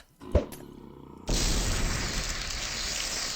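A creeper explodes in Minecraft: a sharp thump, a brief pause, then a loud blast that turns into a sustained roaring hiss lasting several seconds.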